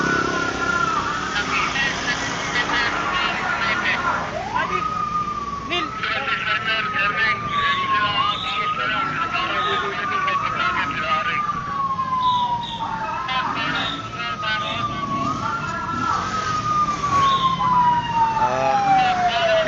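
Ambulance sirens wail at a highway accident scene, a loud, repeating wavering tone that rises and falls over traffic and engine noise, with people talking underneath.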